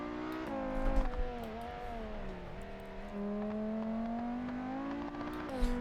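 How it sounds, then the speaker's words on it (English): A simulated car engine in the BeamNG.drive driving game, lapping the Nürburgring through the S-curves, hums steadily with a smooth sustained tone that rises and falls slightly as the revs shift, heard alone at moderate volume. "Hear that engine purr as we go into the S's section here."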